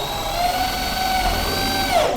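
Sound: power drill driving Pro VTech screws

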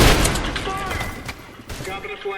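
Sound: explosion in a video game

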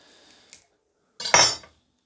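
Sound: knife slicing pork head brawn

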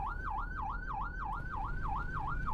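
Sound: police siren in a taxi driving video game

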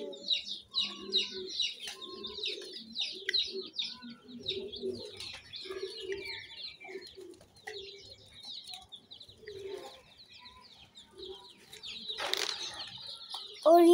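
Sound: newborn baby chicks chirping while being fed

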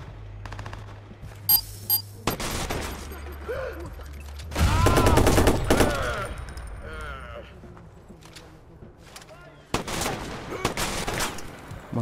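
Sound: gunfire in video game Watch Dogs

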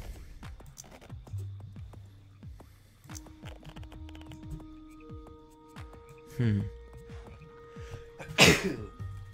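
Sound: sneeze

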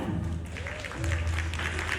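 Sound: audience applause welcoming a guest

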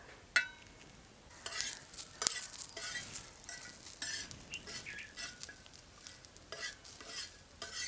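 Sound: roasting coconut masala in oil

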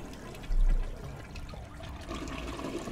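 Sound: toilet flushing in a video game

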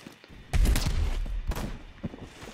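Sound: gunfire in video game Phantom Forces

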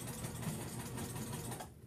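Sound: sewing machine stitching fabric beer koozie

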